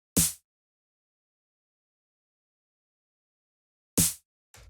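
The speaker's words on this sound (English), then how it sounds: "just like a punchy 909 style snare" A punchy 909-style drum machine snare sample, two dry isolated hits about four seconds apart with a brief tail, heard alone against silence.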